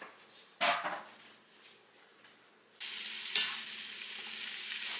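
Ground beef sizzles as it browns in an iron skillet: a steady close-up hiss that grows louder and denser partway through, with a few sharp spikes from stirring or shifting meat.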